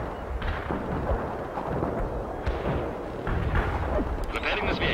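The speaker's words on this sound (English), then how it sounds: "Aiming at the coordinates. Firing artillery." Artillery fire in the video game World in Conflict, a dense continuous rumble of booming blasts and crackling impacts, loud and unbroken throughout.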